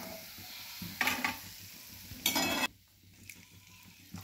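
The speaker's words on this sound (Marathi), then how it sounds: "तेल चांगलं गरम झाले त्यामुळे लगेच पापड्या भाजले ते" Papdi fry in hot oil with a quiet background sizzle, broken by two brief, louder rushes of hissing as pieces drop into the oil.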